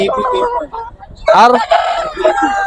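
A six-year-old Spangle rooster at a rooster market crows once loudly and close, its harmonic call rising midway. Other fowl clucking and a man's speech sit around it.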